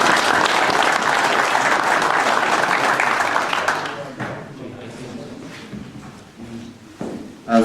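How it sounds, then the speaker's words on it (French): Spectators at an outdoor hare-hunting pack trial clap for the hounds and their handlers. Dense applause holds for about four seconds, then thins to scattered claps and quieter outdoor noise. "Nous pouvons les applaudir."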